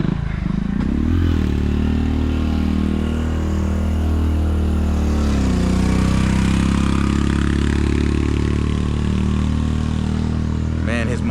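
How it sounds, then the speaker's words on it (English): A motorcycle engine labors uphill on a rainy road near Medellín, its low, steady drone filling the whole stretch with rising and falling strain, loud and close, with a voice speaking over it at times. "his motorcycle is not that potent, so I have to keep getting off"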